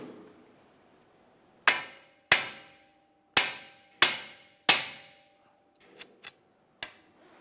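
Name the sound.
hammer striking steering knuckle to loosen ball joint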